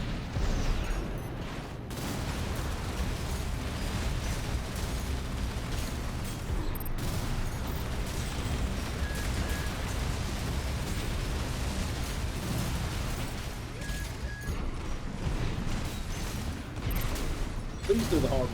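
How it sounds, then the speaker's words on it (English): Songbird grenade cannons on a mech in Armored Core VI fire amid dense, loud, continuous combat noise, with heavy mechanical clatter and booming blasts running the whole time and no clear gaps between them. "hopefully I can fire both songbirds simultaneously"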